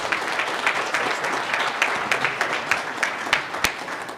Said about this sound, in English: please give David a warm round of applause